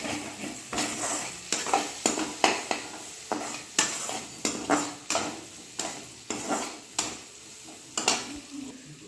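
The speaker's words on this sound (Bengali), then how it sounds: "ভাজা ভাজা হয়ে গেছে আলু আর পেঁয়াজ" Potatoes and onions fry in a pan while being stirred. A spatula scrapes in a steady rhythm, about twice a second, over a constant close-up sizzle.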